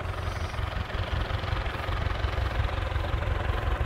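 Case IH 845 XL tractor engine working steadily while pulling a small Kuhn hay rake across a hillside meadow, a continuous low diesel drone with even loudness throughout and no voices.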